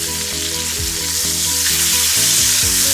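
Marinated chicken frying hard in a pan for a soul food dish, a loud steady sizzle with repeated low thumps and scrapes as the pieces are turned, no voices.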